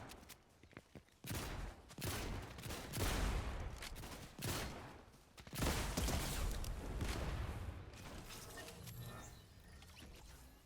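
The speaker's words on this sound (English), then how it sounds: "I rocket launched at him" Rocket launcher fired at an enemy in Fortnite, a few heavy loud blasts separated by pauses, mixed with other game gunfire and effects, no talking heard.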